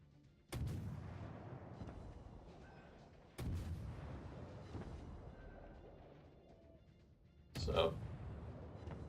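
Naval artillery fires in the World of Warships video game, three heavy booming salvos spaced a few seconds apart, each with a long rumbling decay.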